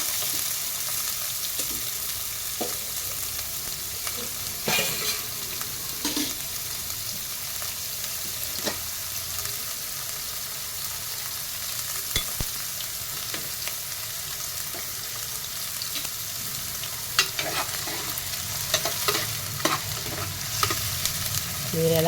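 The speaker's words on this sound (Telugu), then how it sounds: "ఆ ఉల్లిపాయల్లో మాత్రం కొద్దిగా ఉప్పు పసుపు వేద్దామండి ఎందుకంటే వేగాలి కదా" Onions with salt and turmeric fry in a pan, a continuous close sizzle broken by repeated clinks and scrapes of a spoon stirring through them.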